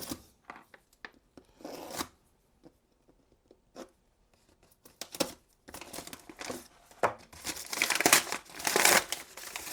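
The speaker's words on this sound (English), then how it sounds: "let's be doing a bit of surgery and see if we can cut this package open" A cardboard package with a matchbox inside is cut open in intermittent bursts of close crinkling, rustling and tearing, separated by short quiet gaps and growing busier toward the end.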